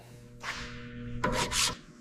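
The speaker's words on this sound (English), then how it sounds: "we're just hitting this rear section with the sander now, trying to get all this pitted rust off" A sander works over the rear section of a car body to strip pitted rust from the metal, a close, steady abrasive rasp and hiss with a low hum beneath, surging louder in two strong passes toward the end.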